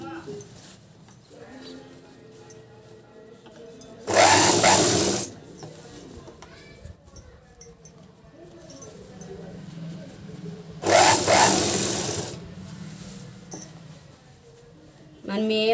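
Sewing machine stitching canvas into a dress neck, two bursts of fast mechanical whirring and clatter, each lasting about a second, with someone talking quietly between them.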